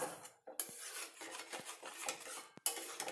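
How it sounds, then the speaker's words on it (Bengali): A utensil stirs spice paste into fish in a pan, giving short scraping strokes and clinks of metal against metal. The sounds come close and irregular, with brief pauses between them. "এবার আমি ভালো করে মশলাটা একদম মাছের সাথে একদম করে দেবো।"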